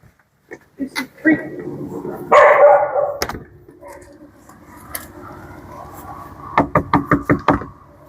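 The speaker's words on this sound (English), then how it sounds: "Now this time I'm going to knock." A person knocks on a front door during Goldendoodle leash and greeting training: a quick run of about five sharp knocks near the end, with a dog barking and yipping earlier and some brief talk.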